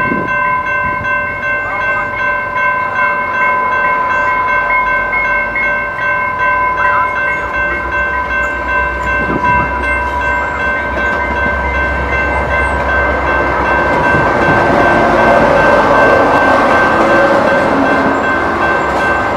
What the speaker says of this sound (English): Yep, that's the rail runner I'm out rail fanning.